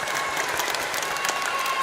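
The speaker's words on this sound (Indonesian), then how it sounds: "Tepuk tangan dulu untuk adik-adik semua" Applause for children at a kindergarten's 50th anniversary thanksgiving Mass, dense, steady clapping from a crowd with a faint tone running underneath.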